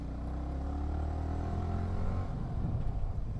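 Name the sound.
vehicle engine knocking going over a speed breaker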